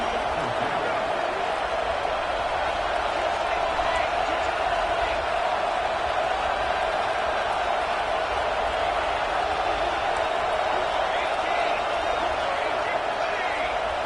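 A roaring crowd fills a football stadium at a Purdue versus UTSA game, a dense, steady wall of cheering and noise that runs unbroken throughout.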